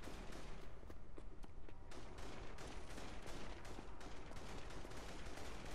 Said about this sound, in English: They're shooting at the cops, so they must be.